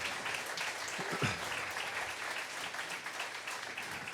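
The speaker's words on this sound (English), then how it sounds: "I hope everyone will join me in giving them a round of applause to everyone out there." Concert audience applause at a live music venue honoring veterans, a sustained wash of clapping heard at moderate distance with a brief whoop near the start.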